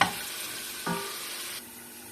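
Green beans stir-fried in a pan, a soft sizzle with a sharp scrape of stirring near the start and another clunk partway through before it quiets down, no talking.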